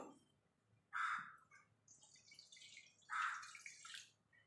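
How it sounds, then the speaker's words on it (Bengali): Hot water splashes into a kadai after moong dal is taken off, in two short, quiet pours with a pause between them, and no talking. "এই কড়ার মধ্যে একটু জল দিয়ে দেবো"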